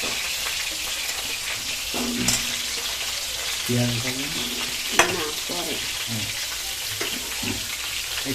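Potatoes fry in a pan for a home-cooked meal with country chicken, giving a steady close sizzle throughout, with occasional stirring clatter and a sharp tap, and a voice speaking briefly midway.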